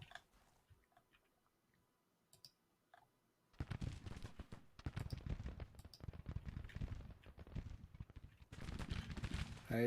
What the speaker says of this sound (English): Sheridan's under artillery fire.